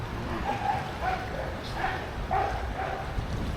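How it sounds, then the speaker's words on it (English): A dog barks from down below beside a rain-swollen stream, a series of fairly distant, evenly spaced barks over steady rushing water. "We're really winding up that dog down there."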